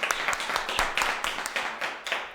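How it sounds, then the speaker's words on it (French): A studio audience claps for the winning pair at the close of a sales duel competition, a continuous patter of many hands at moderate volume with a few louder bursts. The applause carries on throughout without a break. "Et on applaudit les champs."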